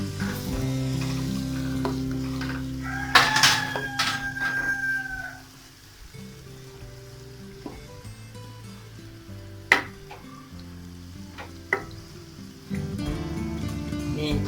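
Meat (goshat) frying with fenugreek in a pan, a steady sizzle with stirring scrapes and clinks; a rooster crows partway through and a call to prayer carries faintly in the background.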